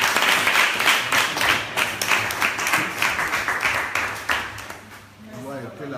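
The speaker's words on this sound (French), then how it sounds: "On applaudit pour ça." Audience applause during a visit to an orphanage in Divo, a dense wash of clapping that rises and falls steadily throughout and thins toward the end, with no talk.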